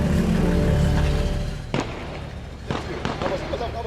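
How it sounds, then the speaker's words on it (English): Several sharp, distant bangs of automatic gunfire crack out in an uneven burst in Haiti, following a steady rumbling drone. "we started hearing gunfire, automatic rounds"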